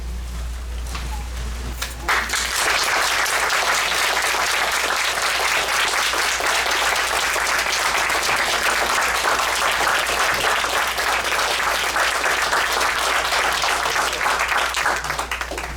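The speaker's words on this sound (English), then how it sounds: "if you guys would you stand up so we can give you an applause for just a second?" A large crowd breaks into loud, sustained applause after a brief quieter moment, clapping steadily and densely throughout with a low hum underneath.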